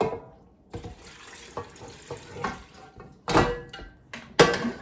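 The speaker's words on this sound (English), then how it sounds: "Now I'm adding water." Water runs and splashes into a metal pressure cooker pot over oxtail meat, with uneven gushes and a few louder bursts near the end; no talking.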